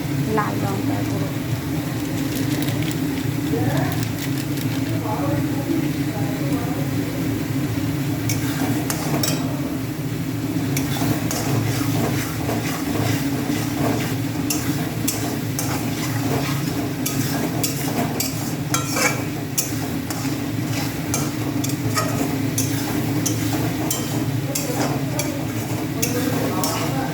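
Spices frying in a pan while cooking chicken kosha, a steady sizzle with stirring and light clinks of a utensil beneath someone talking throughout.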